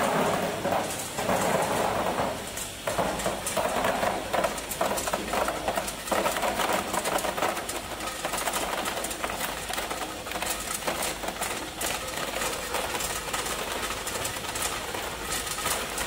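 An ice-making machine runs continuously, a busy mechanical clatter and rattling rhythm with a steady hum, moderately loud and without speech.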